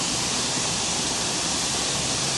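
The Cascata Vallategna waterfall rushes in a constant, loud, broadband roar that fills the whole moment without a break.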